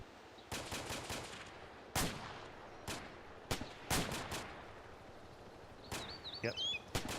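Gunfire in the Arma military video game: several sharp bursts and single shots at irregular intervals over a noisy background, some loud and close, others more distant, with a faint whistling streak near the end.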